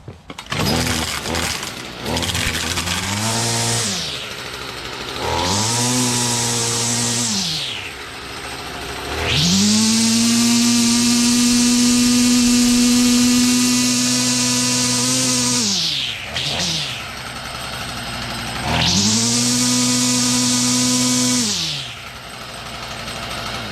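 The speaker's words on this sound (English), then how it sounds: "This weed whacker runs great and is ready to go. Let's try it out." A Stihl FS45 string weed trimmer, freshly repaired with a new deflector guard, revs up loudly in several bursts, rising and holding a high whine before dropping back to a low idle, with no talk.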